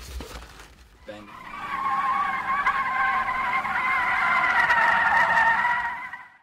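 Foley tire squeal made for film car chases: a sustained, loud tonal screech swelling after a soft knock and holding steady for several seconds before fading, with no voices.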